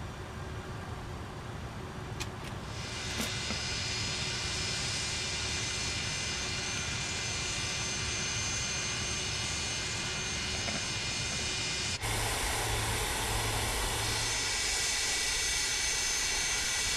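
The jet engines of an MD-80 roll out after touchdown in Microsoft Flight Simulator, a steady loud whine and roar with a high tonal hum, shifting abruptly to a brighter rushing tone near the end.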